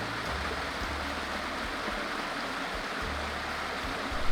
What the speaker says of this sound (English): There is a beautiful little waterfall down there.